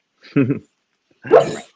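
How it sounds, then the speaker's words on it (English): A dog barks in its sleep while dreaming, two short muffled woofs separated by a pause, heard close and fairly loud with no talking. "my dog is like barking in the back because he's dreaming"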